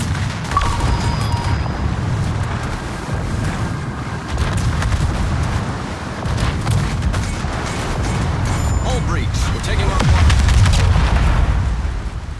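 Ship combat in World of Warships with a submarine torpedo strike, heavy rumbling booms and crashing blasts rolling over a dense low battle roar, loudest near the end.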